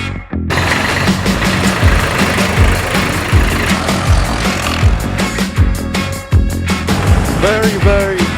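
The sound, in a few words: tractor engine running on Sark island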